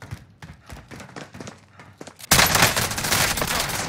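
Gunfire in a Warzone battle royale match: a quick run of separate sharp shots, then a sudden, loud, sustained barrage that fills the rest of the clip.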